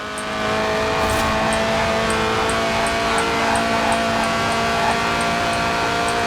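A light car weighing under 700 kilos with a 190-horsepower 1.8-litre engine revving to 8,000 RPM in Forza Horizon 4, a loud, steady high-revving engine wail held close and constant, with faint rhythmic ticks above it.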